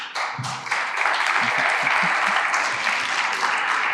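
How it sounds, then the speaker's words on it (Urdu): Applause from a student audience at a university conversation event, building quickly from a few claps into loud, sustained clapping, with brief voices underneath at the start. "سب کو تالی بجانی چاہیے"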